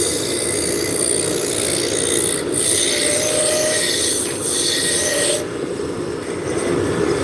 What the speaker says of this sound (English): So we're starting out with a roughing gouge.